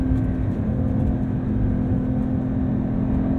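A 2023 Porsche 911 T with a manual gearbox drives along, its engine giving a steady, even drone with a constant tone and no voices.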